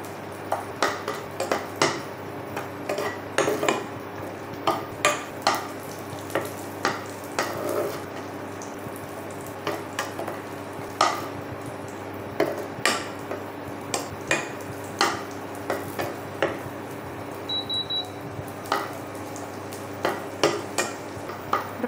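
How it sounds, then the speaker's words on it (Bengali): Cashews and raisins fry in a pan with a constant soft sizzle, while a utensil scrapes and clinks against the metal in a steady, repeated stirring rhythm. No talking is heard. "এখানে কাজু কিশমিশটা ভেজে নেব।"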